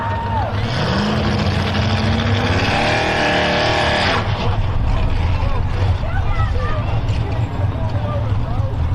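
Sam McGill's Predator 4 pulling truck revs hard at the starting line of a county fair truck pull, its engine climbing to a loud roar and then holding a rough, heavy growl, with an announcer talking over it.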